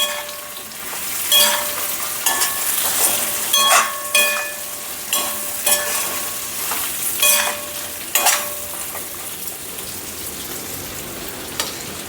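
A spoon stirs okra curry, freshly salted, as it fries in a pan. Scraping strokes come in irregular bursts over a steady low sizzle, close and moderately loud, with no talking.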